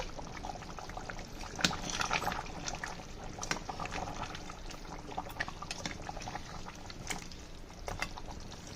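Nalli gosht mutton curry simmers in a pot, with faint, soft bubbling and occasional small pops, a quiet and steady sound.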